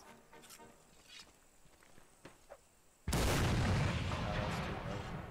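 Artillery cannon firing in Mount & Blade: North & South, quiet footsteps and small thuds followed by a single loud boom that erupts and rolls on as a long, dense roar.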